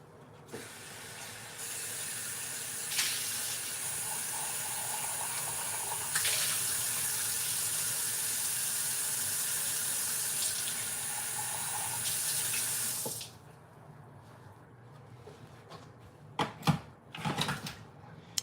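Water from a tap runs steadily into a container for about thirteen seconds, a loud hissing close-up flow, then cuts off, leaving a quiet room with a few small clinks and bumps.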